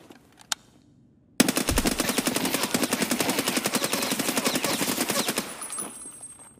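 Automatic gunfire in the shooter game Escape From Tarkov, a loud sustained burst of rapid rhythmic shots lasting about four seconds after a single earlier pop, heard alone without talk.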